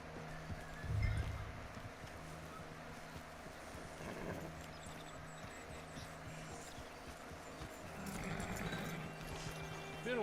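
Horse hooves clip-clop at a walking pace in the Red Dead Redemption video game, soft and steady over a low ambient hum, with no talk heard.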